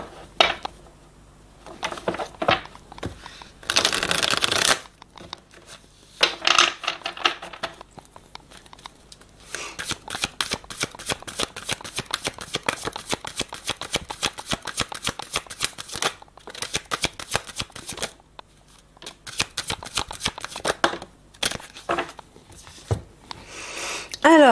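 Tarot cards are shuffled and drawn in a long stretch of rapid riffling and flicking, broken by brief pauses and soft handling noises, with a voice speaking at moments.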